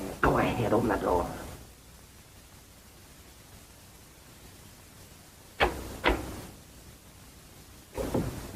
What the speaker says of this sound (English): Go ahead, open the door.